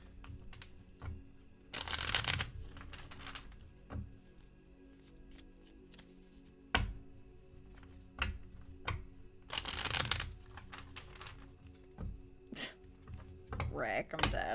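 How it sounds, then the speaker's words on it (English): A deck of tarot cards is shuffled in two loud, fluttering riffles a few seconds apart, with lighter taps and card handling in between and a person talking throughout. "let me just shuffle these real quick"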